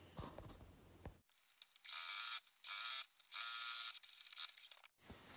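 A sewing machine stitches a fabric guinea pig tunnel, running in several short whirring, rattling bursts separated by pauses, close and clear after a brief stretch of quieter handling.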